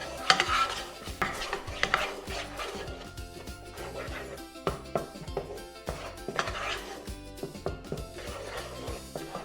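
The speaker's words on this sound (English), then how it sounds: "And then you want to stir this constantly until the marshmallows combine with the butter" Melting marshmallows and butter are stirred in a pot, the spoon scraping and knocking against the metal in a steady, busy rhythm of clinks and taps close by.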